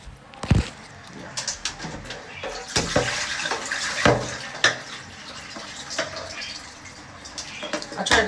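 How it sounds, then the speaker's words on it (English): Tap water runs and splashes in a kitchen sink while food is rinsed and drained for Sunday dinner, with uneven clatters and sloshes rising and falling close by. "I tried to drain all the water off."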